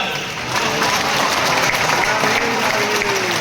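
A crowd of devotees clapping in sustained applause at a religious gathering in Nand village, a dense, steady wash of hand claps with voices mixed in.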